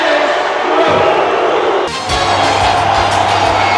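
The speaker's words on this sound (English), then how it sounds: "The crowd here at the Met Center in Bloomington, Minnesota is up again, roaring." A hockey crowd roars at the Met Center in Bloomington, Minnesota, during the third period of the 1986 NHL playoff game between the North Stars and Blues. The roar is loud, dense and continuous, surging sharply midway through.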